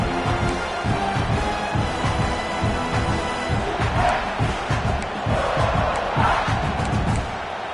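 A large stadium crowd at a football game roars and cheers continuously, a dense, loud wall of voices with rhythmic surges and chanting swells throughout.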